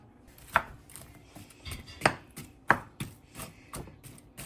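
Knife strokes slicing an onion on a cutting board in a home kitchen: a series of sharp, distinct chops at an uneven pace, close and clear, with no voices.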